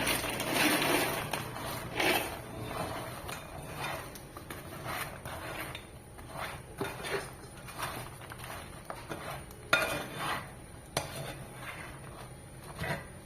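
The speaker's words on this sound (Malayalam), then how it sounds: "ശർക്കര നൂൽ പരുവമായിട്ടുണ്ട് അതിലേക്ക് വറുത്ത് വെച്ചിരിക്കുന്ന കായ ഇടുക" A spoon scrapes and clatters against a pan as fried banana pieces are stirred into thick, string-stage jaggery syrup for sharkara varatti, with repeated uneven knocks and scrapes and no talking.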